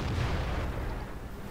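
A gunshot in a video game lands as one dense, booming burst that decays quickly into rumbling noise.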